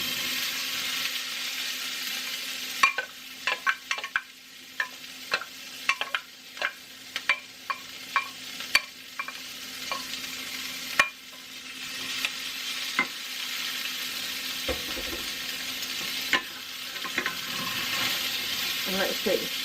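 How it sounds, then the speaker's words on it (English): Celery mix and garlic sauté in a skillet with a soft, steady sizzle, punctuated by scattered clicks and scrapes of stirring utensils against the pan. "the next step after you get all the meat done is you add the celery mix and the garlic to the skillet."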